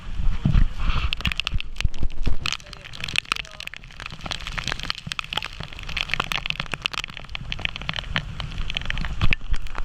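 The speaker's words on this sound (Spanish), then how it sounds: "Estamos en medio de la lluvia." Heavy rain pours steadily through a storm, a dense broadband hiss with sharp crackling impacts scattered throughout, close and fairly loud, while a voice speaks briefly near the start.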